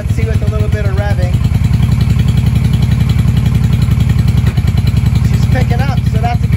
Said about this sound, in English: So let's see with a little bit of revving.